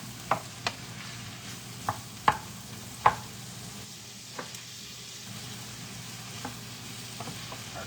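Onions and mushrooms sautéing in a pan, set out for a scratch-made green bean casserole: a soft, steady sizzle with several sharp clacks and scrapes of a utensil stirring in the first half, then quieter frying.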